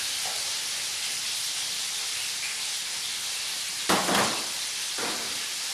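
Mushrooms added to a hot pan give a steady, bright sizzle and hiss, with a brief louder flare of frying partway through.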